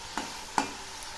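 Onion and garlic paste frying in a pan for a prawn dish, a soft continuous sizzle broken by two brief scraping stirs, close by and without talk.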